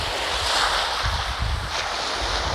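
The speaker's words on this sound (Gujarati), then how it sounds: "હવે આવશે મોટી વેવ આવશે." Ocean waves wash onto Shivrajpur beach with a steady roar of surf, gusts of wind buffeting the microphone and low surges as water rolls in. No one speaks.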